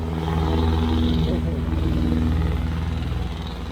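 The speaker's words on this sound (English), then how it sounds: "They love making those exhaust pipes louder." Loud modified exhaust of a passing vehicle on a street during typhoon season, a steady low engine drone sustained throughout with talk over it.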